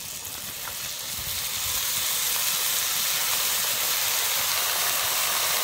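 Chikni saag greens go into a pan of fried potato and eggplant, setting off a loud, steady sizzle and hiss of frying that swells and holds throughout.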